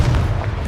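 A Confringo blasting spell going off in Hogwarts Legacy: one short, loud, low booming burst, close and heavy, fading quickly.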